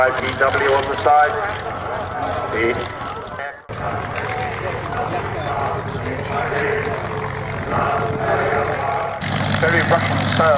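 Rumbling drone of an aircraft's Russian-built 9-cylinder, 360 horsepower radial engine at an airshow, steady and loud throughout with a short dip partway, while a commentator talks over it.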